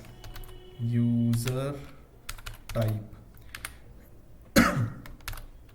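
Close, crisp tapping on a computer keyboard in scattered runs of keystrokes, heard between bits of a man's speech.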